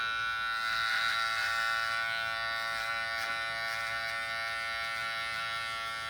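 A barber's electric hair clipper buzzes steadily at close range during a men's fade undercut, a continuous motor hum with slight texture changes as it cuts through hair, no voices.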